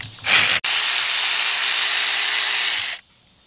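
A power tool spins up to remove timing cover bolts on a GM V6 engine during a timing chain replacement, one steady high whine lasting about two and a half seconds, loud and close, then stopping.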